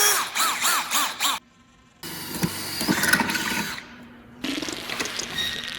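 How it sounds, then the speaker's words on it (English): A power drill bores a pilot hole through a car's firewall for rivnuts while a catch can is fitted, with loud bursts of whirring separated by a quiet pause and a final drilling run. "we're gonna just quickly drill a pilot hole in the car"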